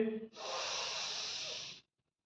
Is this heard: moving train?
no